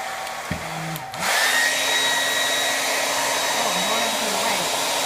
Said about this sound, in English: the good thing about the blow dryer is it's super fast